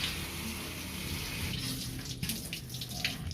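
Water is poured over a free-draining potting medium for aglaonema cuttings, a steady close trickle and splash that turns into scattered dripping and gurgling as it soaks through.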